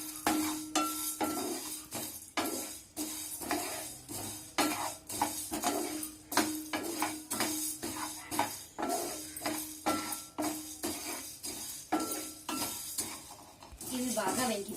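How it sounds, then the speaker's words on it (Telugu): Rasam powder spices are dry-roasted in a pan, with a spatula scraping and knocking against the metal in a steady, rhythmic clatter of repeated clinks close by. "మంచి సువాసన వచ్చేంత వరకు చక్కగా దోరగా వేయించుకోవాలి."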